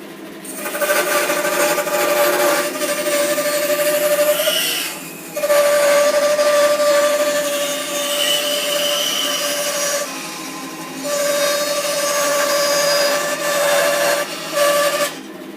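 A Charnwood B350 bandsaw runs steadily while cutting a tight radius in wood, a sustained whining motor and blade hum with brief dips and pauses as the curve is worked, close and loud with no talking.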